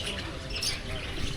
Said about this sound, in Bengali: যদিও কিছু পাখি করে রাখা, খাঁচায় রাখা, এই আওয়াজ শোনা যাচ্ছে।